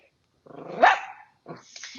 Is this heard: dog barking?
yes